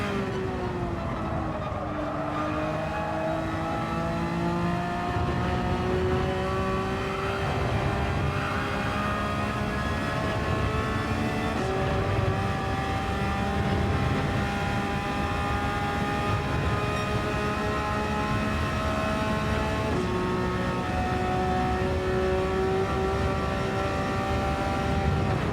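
Porsche 911 992 GT3 R race car engine in a racing video game, a steady high-revving howl with rising gear-by-gear pitch sweeps and brief dips at shifts, loud and continuous throughout, with no talking.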